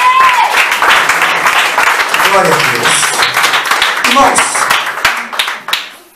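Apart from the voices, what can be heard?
congregation clapping hands in church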